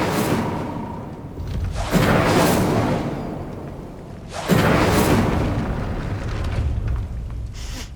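A fire spell cast in the video game Hogwarts Legacy, heard as two loud whooshing bursts of flame about two and a half seconds apart, each with a deep rumbling boom that swells and then fades.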